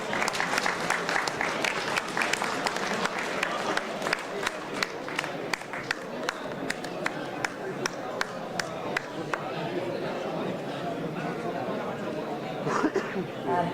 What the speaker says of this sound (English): So big round of applause to Deepak Dai.